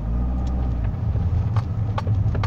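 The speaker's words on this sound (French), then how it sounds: "C'est une Fiat Panda 100 HP Sport." A Fiat Panda 100 HP Sport engine runs close by with a steady low rumble, and a few faint clicks rise above it.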